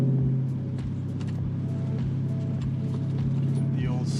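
An Infiniti Q45 running on blended E85 fuel drives along, its engine giving a steady low rumble with a faint hum throughout, close and continuous, with a few brief knocks and clicks on top and no talking.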